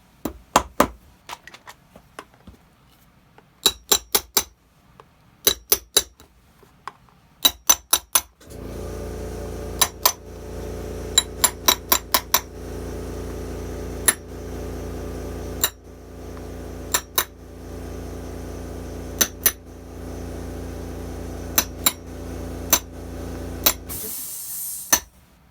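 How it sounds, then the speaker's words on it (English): Nails are hammered into the top lift on the base of an Allen Edmonds shoe heel, with quick bursts of sharp metallic taps in rapid clusters, first in near silence and later over a steady droning machine hum. "And then we're going to nail this, the top lift, to the base."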